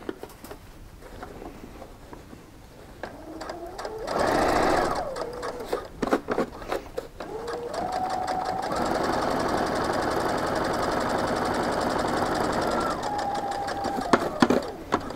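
A sewing machine back-stitches through a bean-filled weighted blanket, a loud rapid mechanical whir that stops and restarts, with a steady hum running through the second half and a voice briefly heard.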